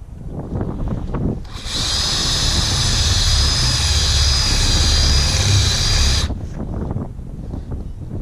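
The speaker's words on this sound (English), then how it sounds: "so we're going to drill this out" A power drill enlarges a hole to the next size up while fitting Jeep Wrangler JL hood latches on a JK, whining steadily for about four and a half seconds, loud and close, with a high-pitched tone and a low rumble, then stops abruptly.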